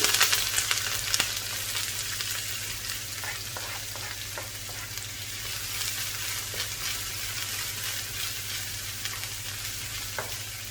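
Onion frying in oil in a pan, giving a continuous hissing sizzle that starts slightly louder and then settles, with a few faint clicks and taps of a utensil and no talking.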